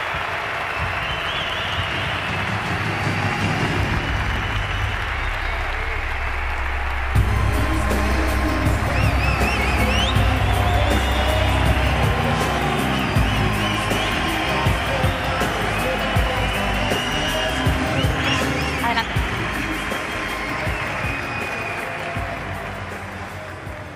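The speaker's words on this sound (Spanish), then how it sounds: "Por favor, un fuerte aplauso." A forum audience in Madrid greets an Argentine political scientist with loud, steady applause and some cheering, a continuous roar of clapping lasting many seconds over a low background hum.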